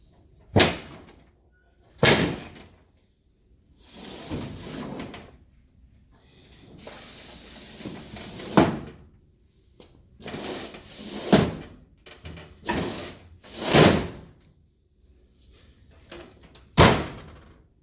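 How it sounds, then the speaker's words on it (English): A badly damaged bottom drawer of an old, battered toolbox is forced open in a close-up, giving a series of sharp metallic bangs and scraping thuds spaced a second or two apart, loud and close with no talking. "Let me show you a close-up on this bottom drawer and how it barely opens and it's all banged around."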